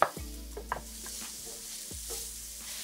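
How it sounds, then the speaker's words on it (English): Onion and button mushrooms frying in a pan, a soft continuous sizzle with a few stirring knocks of a utensil against the pan, close and fairly quiet. "I'm going to fry an onion and some mushrooms."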